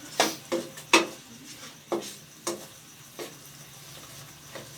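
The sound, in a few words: stirring karahi chicken while it cooks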